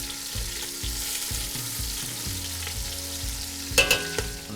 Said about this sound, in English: Carefully turn the ribs, making sure to saute all sides to develop flavor.